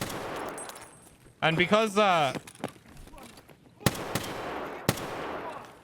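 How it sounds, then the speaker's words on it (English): Two sharp, loud semi-automatic M1A rifle shots in Escape from Tarkov, spaced about a second apart, come after a stretch of someone talking and end in a short echoing tail over the game's low background noise. "this gun's a semi-automatic"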